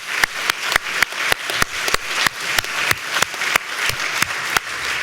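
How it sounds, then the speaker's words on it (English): Rhythmic round of applause from an audience at a debate event for two panelist teams, with sharp, loud claps standing out at a regular beat against a dense clapping wash. "Can we just give the two sets of panelists another round of applause?"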